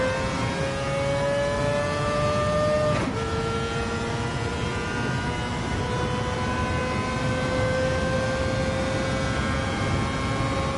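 Group C race car engines in a video game whine continuously at high pitch, one passing with a quick falling pitch shift, under a constant roar of other cars.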